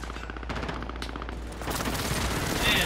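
Gunfire in Call of Duty: Modern Warfare: rapid, continuous automatic shooting forms a dense, loud barrage that intensifies toward the end.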